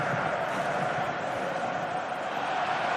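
Stadium crowd in the FC Mobile football video game, a steady, dense roar of many voices sustained throughout at moderate level, with no commentary over it.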